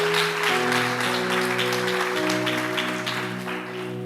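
A church congregation applauds in a worship service, broad steady clapping running throughout while sustained organ or keyboard chords ring beneath it.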